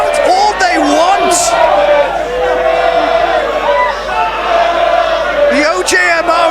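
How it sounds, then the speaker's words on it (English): Wrestling crowd in a packed ballroom during a championship match after a superkick, a loud dense mass of cheering, shouting and chanting voices that swells steadily throughout, with scattered sharp whoops. "the crowd here at the ballroom can count all they want"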